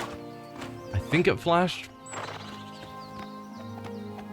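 Horse hooves clip-clopping in the video game Oblivion Remastered, a steady gait joined by a loud neighing whinny partway through, with a person speaking over the game sounds.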